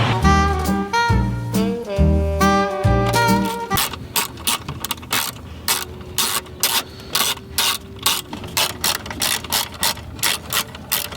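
A ratchet removes the 8mm bolts holding a car stereo in the dash, starting with quick bursts of metallic clicking and then settling into a steady run of sharp, evenly spaced ratcheting strokes up close.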